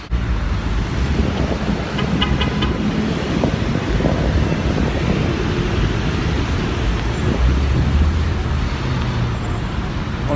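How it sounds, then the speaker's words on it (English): Constant roar of city street traffic in New York, with cars and buses passing close by and wind buffeting the microphone, a dense unbroken wash of road noise with a brief clatter partway through. "Ignore the traffic noise, it's just New York."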